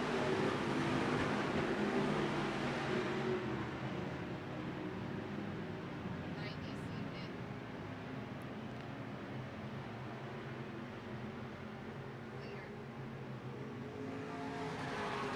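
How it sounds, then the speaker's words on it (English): IMCA Sport Mod race cars circle the dirt oval at Central Arizona Speedway, making a continuous broad engine roar from a pack of cars that swells and eases slightly, while an announcer talks over it. "Miller around the corner again. Mark Harrison not so much trying to chase down the lead, but now trying to protect 2nd spot here as Andy Clower is hot on his heels."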